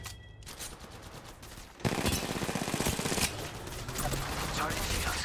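Rapid automatic gunfire in the battle royale game Apex Legends, a sustained rattling burst of shots that grows louder partway through and keeps firing to the end, with no talk over it.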